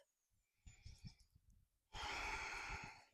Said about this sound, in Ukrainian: Дихаємо.